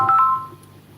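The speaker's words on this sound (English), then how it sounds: "my daughter's ringing me." A phone's ring tone sounds as two or three short, bright electronic tones in quick succession, fairly clear over a quiet background, with no voices.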